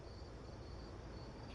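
Feeder crickets chirping, a faint continuous high trill with no break.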